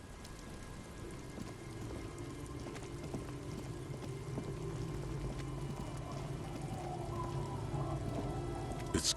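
Steady rain falls in the video game Disco Elysium, a continuous soft hiss of drops on surfaces with a low rumbling bed beneath, growing slightly louder toward the end.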